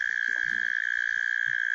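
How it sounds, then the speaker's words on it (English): A frog gives a loud, close, steady buzzing croak, sustained without a break, with faint rumbling noise underneath. "that's the sound of a frog laughing."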